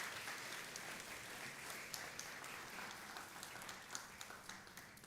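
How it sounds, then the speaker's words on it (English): Audience applause at the All Things Food Summit at SXSW 2024, a steady, fairly distant wash of many hands clapping that holds evenly throughout with no talk. "yes, round of applause, everyone"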